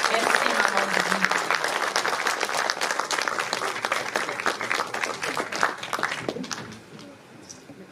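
An audience applauds at a ceremony honoring women of the Congolese diaspora in Belgium. Dense, steady clapping from the crowd continues for several seconds, then thins and fades toward the end.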